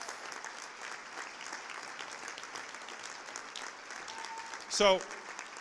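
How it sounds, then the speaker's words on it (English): An audience at a commencement ceremony applauds the faculty with a steady, fairly quiet patter of clapping throughout, and a brief spoken word breaks in near the end. "let's give a round of applause to our faculty as well"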